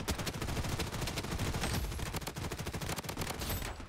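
Sustained rapid gunfire in the Blood Strike battle royale game, with dense overlapping automatic bursts and shots crackling continuously at close range.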